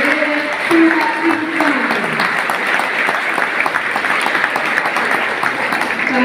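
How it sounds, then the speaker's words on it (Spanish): Steady applause from a crowd at a scholarship award ceremony fills the whole stretch, dense and continuous, with a voice briefly audible at the start. "Brindemos un fuerte aplauso"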